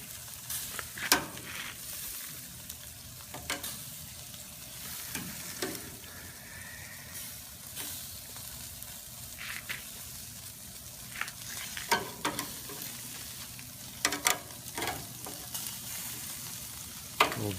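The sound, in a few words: bacon-wrapped fillets and meats sizzling while being flipped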